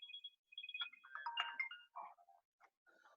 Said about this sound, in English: somebody's phone is ringing